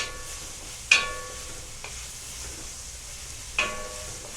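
Ground turkey for stuffed cabbage soup gets stirred in a pot over a soft steady sizzle, with three sharp spoon knocks against the rim spaced a second or two apart, close and without talk.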